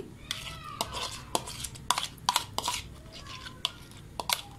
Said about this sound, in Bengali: আমি এই টক দইটা এই বাটিটার গায়ে চারদিকে লাগিয়ে নিচ্ছি